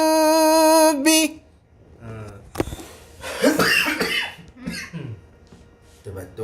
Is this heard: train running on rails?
no